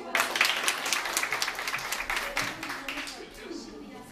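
Audience at a Mother's Day children's show clapping, a burst of fairly close applause that thins and tapers off, with a voice heard in the later part.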